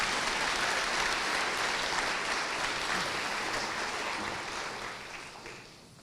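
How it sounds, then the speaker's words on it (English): Sustained audience applause at a law school first-year welcoming ceremony, a dense steady wash of clapping that holds evenly, then gradually thins and fades toward the end. "A round of applause for our cloakers."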